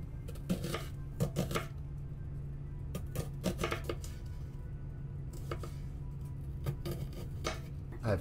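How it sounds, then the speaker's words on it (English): A whole red onion being sliced lengthwise into long, thin strips for pickling, heard as a scattered series of crisp knife taps on a cutting board over a low steady hum. "take a whole red onion, cut that the long ways, not so you have big round strips"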